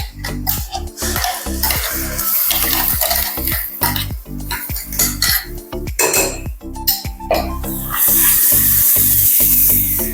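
Tomato, onion and cashew puree tipped into a hot, sizzling pan and stirred, with loud repeated scraping and clanking of a spoon against metal over a steady fry hiss that swells near the end.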